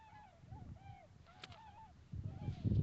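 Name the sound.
geese honking outdoors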